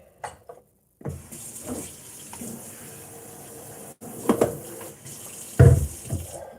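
A tap gushes into a sink as Walmart black Triton water bottles are rinsed, a steady hiss broken by louder splashes and knocks as the bottles are handled. No one speaks.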